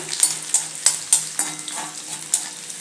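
Finely chopped garlic cloves frying in oil on low heat, with a steady sizzle broken by about eight sharp spatula strokes against the pan, close and fairly loud.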